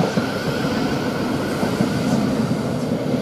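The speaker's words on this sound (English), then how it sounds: "Now we are getting another Thameslink train from Brighton to Cambridge, the 12:40 service, well 700-104." A Thameslink Class 700 train, unit 700-104 on the Brighton to Cambridge service, passes through Three Bridges station with a steady, loud rolling rumble of wheels on rail, close by and without talk.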